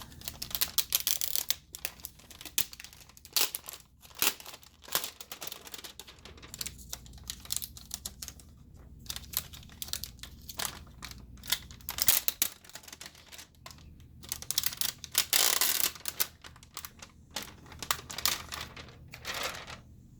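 Protective plastic film is peeled off an Nvidia 2070 video card during installation in a gaming computer, giving close, crinkly crackles and rapid ticking bursts that come and go without a break.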